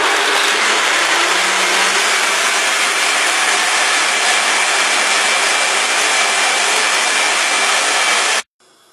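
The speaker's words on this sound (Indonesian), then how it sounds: "Kemudian di blender kurang lebih selama 1-2 menit." A kitchen blender grinds soaked soybeans for homemade tofu, a steady loud whirring roar that runs unbroken for about eight seconds and then stops abruptly.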